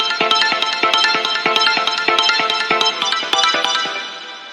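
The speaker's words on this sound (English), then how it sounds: "I turn the phase all the way down to 0 degrees so that it becomes like a chopper" Synth patch rhythmically chopped on and off by an auto pan effect with its phase set to zero, giving a steady stuttering gate of bright tonal pulses, loud and alone, fading slightly at the end.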